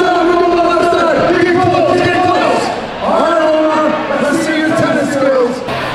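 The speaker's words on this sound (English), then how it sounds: "This year there's definitely a crowd, and it's loud." A loud crowd cheers from the stands at a sporting event in Dubai, a dense, sustained roar that swells and dips, with voices layered throughout.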